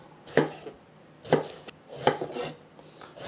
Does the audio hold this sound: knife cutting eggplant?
yes